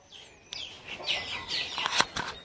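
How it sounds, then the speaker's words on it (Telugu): A rooster gives a short run of clucking calls up close, with a brief rustle or flap of wings. "ఇక్కడ చూడండి ఫ్రెండ్స్ మనకు ఒక కోడిపుంజు ఉంది"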